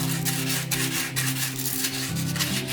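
Sandpaper rubs along a wooden dowel being shaped into a toy spinning top, a close, continuous scratchy rasping with quick back-and-forth strokes.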